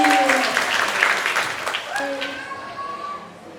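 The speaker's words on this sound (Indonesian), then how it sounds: "tepuk tangan untuk Aldi" Applause from the audience at a Buddhist Kathina almsgiving ceremony starts full and gradually thins out, while a person begins speaking as the clapping fades.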